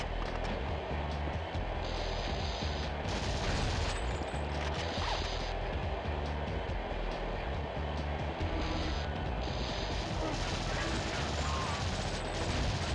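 Gunfire in the PS1 game The World is Not Enough, dense continuous shooting and rumbling bursts in a subway setting, loud and unbroken throughout.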